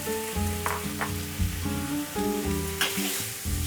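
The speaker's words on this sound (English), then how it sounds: "stir fry these onions so they're just a little translucent" Onions stir-fried in a wok sizzle loudly and continuously, with a few tossing scrapes, as tonal music plays throughout.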